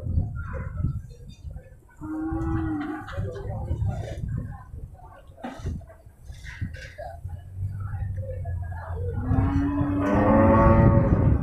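Cattle being transported, with a large cow among thin ones lying down, low close moos, one early and a louder drawn-out one near the end, over engine rumble and clatter, with people talking.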